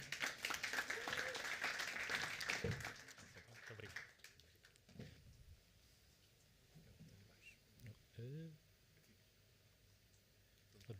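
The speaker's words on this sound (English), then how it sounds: "Round of applause for R4D" Applause from an incubator meetup audience welcomes a presenting startup team, a dense clatter of claps for about four seconds that then fades into quieter room sound and a few spoken words.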